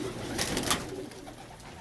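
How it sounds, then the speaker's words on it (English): Pigeons coo softly in an indoor loft, a low throaty murmur under a steady hiss, with no other sounds breaking through. "I got a lot of birds in here."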